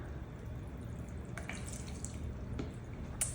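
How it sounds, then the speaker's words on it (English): Water pours into corn kernels for a corn confetti pasta salad: a faint, brief trickle with a few light splashes and drips over low room noise. "I want to add a 1/2 cup of water"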